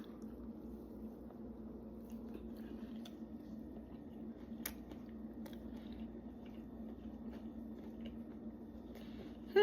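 Quiet bites and chewing of a corn muffin made with butter, faint soft mastication close to the mic, steady and muffled with a small bump at the end.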